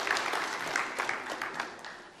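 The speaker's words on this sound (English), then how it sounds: "Give her a round of applause for my benefit" Brief, dense audience applause at a security forum, steady clapping that tapers slightly toward the end.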